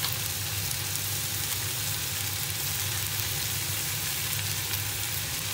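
Stir-fried vegetables sizzle in a hot pan alongside pork ribs and egg fried rice, producing an even, unbroken hiss at moderate volume that holds steady from start to finish with no voices.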